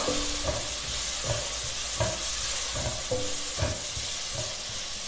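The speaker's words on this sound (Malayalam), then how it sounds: "ടൊമാറ്റോയും ചേർത്ത് ഇളക്കി ചേർത്ത് കൊടുക്കാം" Chopped tomato being stirred into a simmering chickpea curry masala, with a steady close sizzle and a spoon scraping the pan in a regular rhythm about every second.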